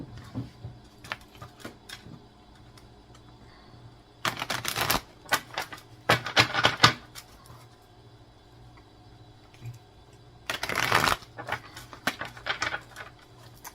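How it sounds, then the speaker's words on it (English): Tarot cards being shuffled in several quick riffling bursts separated by quieter pauses, close and crisp. "I do shuffle the cards before each reading."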